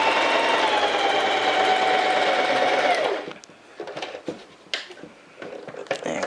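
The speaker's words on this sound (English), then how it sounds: "I'm just going to sew straight until I go right off the edge." A sewing machine stitching a basic bodice dart runs steadily with a whirring motor hum, then stops, followed by scattered clicks and handling noises.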